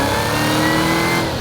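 A 6.2-liter supercharged small-block V8 car engine revs in a steady, loud, close drone that holds a constant pitch throughout, with no voices.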